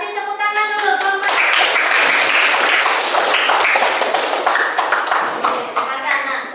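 A classroom of students claps for a group being called up to present, dense hand claps filling several seconds at close range, with a voice speaking briefly at the start.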